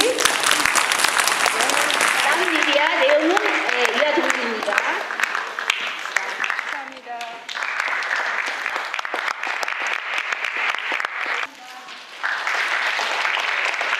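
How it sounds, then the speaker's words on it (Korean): A crowd applauds in a long, sustained burst of clapping at a Korean school graduation ceremony in Frankfurt, with voices calling out over it at the start. "다 같이 서로에게 우리 큰 박수 한 번씩"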